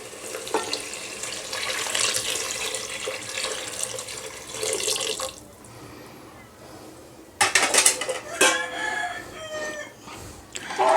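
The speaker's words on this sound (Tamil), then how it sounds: "இப்போ பிரியாணிக்கு தேவையான தண்ணியை ஊற்றிக்கலாம்." Water pours steadily into a pot of stingray fish biryani cooking on a stove, a continuous splashing stream that stops partway through, followed by a few clinks and stirring noises.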